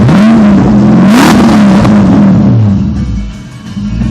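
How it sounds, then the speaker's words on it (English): A supercharged Porsche 928 S4 V8 revs loudly up close, the engine note climbing and wavering through a sustained run before easing back, with no talking over it. "I'll rev it up a little."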